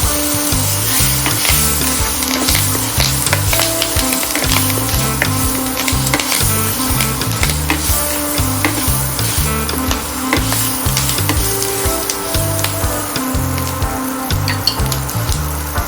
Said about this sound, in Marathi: त्यात आता शेवग्याच्या शेंगा घालून चांगलं मिक्स करूया